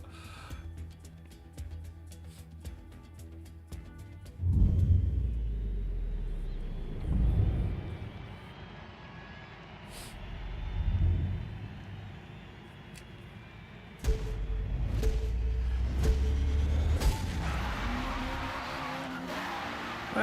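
Mazda RX-7 engine in Forza Motorsport, a low engine hum with a run of rapid ticks at the start, then surges of revving and acceleration that rise and fade, with a louder stretch toward the end.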